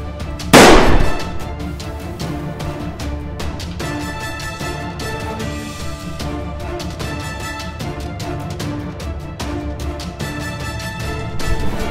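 Rapid gunfire in a Roblox video game, an opening loud crack followed by a dense run of repeated shots and metallic clatter, loud and close throughout with no talk.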